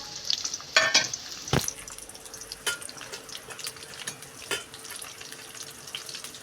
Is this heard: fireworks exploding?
no